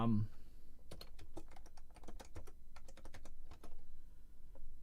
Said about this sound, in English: So we'll just type in here.